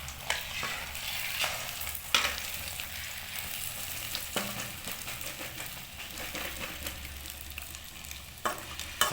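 Egg and onion omelette sizzling steadily in a frying pan, with scattered clicks and scrapes of a spatula flipping it; close and continuous, no talk.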